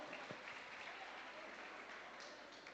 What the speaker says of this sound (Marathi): त्यांच्यासाठी एकदा जोरदार टाळ्या होऊन जाऊ द्या.